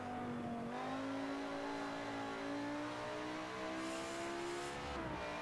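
An American truck's engine revs in a racing video game. The loud, continuous engine drone climbs steadily in pitch, then dips briefly near the end.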